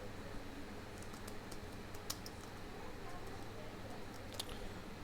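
Someone types a father's name on a computer keyboard in an online registration form; faint, scattered key clicks come in short bursts under quiet background noise, with speech nearby.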